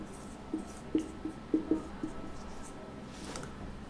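Light scratchy taps of writing on a classroom board during a 9th-class physics lesson, a few short strokes in a loose cluster, faint and close, with no talk.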